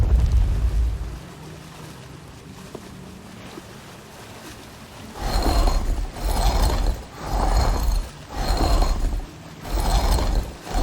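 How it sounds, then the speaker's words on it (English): Stone blocks grind and rotate on a wall mechanism in the Sea of Thieves game, heard as several loud rumbling scrapes in a steady sequence over a low ambient wind-like bed. "You're going to need to spin the blocks on the wall to match the markings in your book, like so."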